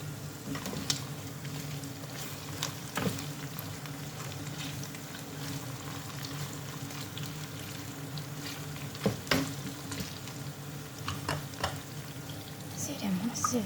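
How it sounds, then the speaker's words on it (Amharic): Chicken pieces fry in a pan for Indian butter chicken, a steady close sizzle with intermittent stirring scrapes and taps throughout. "ዶሮውን እንደዚህ እየጠበስክ ነው።"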